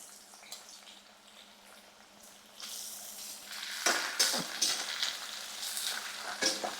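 Thinly sliced onions hit hot oil in a pan and sizzle, starting as a faint hiss that swells into louder, crackling frying with bursts of spatter as they are stirred.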